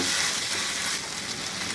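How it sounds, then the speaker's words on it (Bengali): Cumin and ginger-garlic paste fry in a pan, making a loud, close, continuous sizzle with slight stirring noises, heard alone. "এর মধ্যে আমি এক টেবিল চামচ আদা রসুন বাটা দিব দিয়ে এর সাথে একটু ভেজে নিব"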